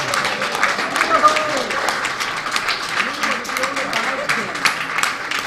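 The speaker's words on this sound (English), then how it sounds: "I think Teacher Kim deserves a bigger round of applause" Audience applause for a teacher at the launch of an education programme in Belize, a moderate, continuous patter of clapping from a crowd with voices and speech running beneath it.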